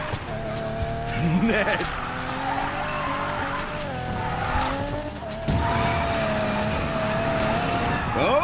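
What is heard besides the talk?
car drifting with tire squeal in video game Need for Speed Payback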